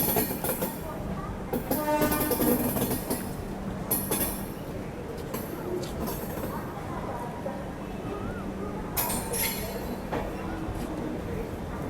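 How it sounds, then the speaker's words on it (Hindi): Maharashtra Express pulling into platform 6 at Nagpur Junction, a steady rumbling train noise with rail clatter and brief higher squeals or horn bursts, heard close with faint voices in the background. "नागपुर जंक्शन के प्लेटफॉर्म नंबर 6 पर शायद अपनी ट्रेन आई है।"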